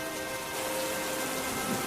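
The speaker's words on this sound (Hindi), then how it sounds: "कमला बारिश में पूरी तरह से भीग चुकी थी" Steady heavy rain pours down in a village, a dense, continuous hiss of drops hitting surfaces that holds at an even loudness throughout with no voices.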